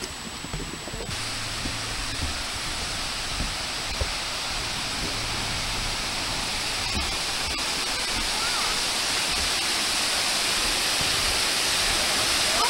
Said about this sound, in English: we're just under the crest of the waterfall.